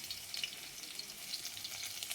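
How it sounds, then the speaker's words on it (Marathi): A soft, steady crackling sizzle of mustard seeds and coarsely crushed garlic in hot oil in a wok, faint and close, with no voices. "कढईमध्ये तेल टाकलं आहे मोहरी जाडसर कुटलेलं लसूण"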